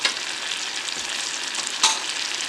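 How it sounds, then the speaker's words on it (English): Chicken and garlic frying in burnt butter, a close, steady hiss and crackle with a brief louder flare near the end. "So the garlic actually starts to burn in there as well"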